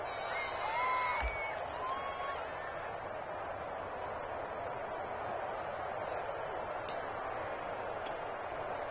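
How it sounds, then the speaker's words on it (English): A football stadium crowd before a two-point conversion gives off a steady, dense roar that carries on without a break and sounds somewhat distant. A few sharp whistles and ticks cut through it, and a voice talks faintly over the noise. "Listen to this crowd now."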